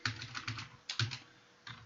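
Keys clack on a computer keyboard while a program comment is typed into a new file, in short bursts of rapid taps separated by brief pauses, close and clear with no talking.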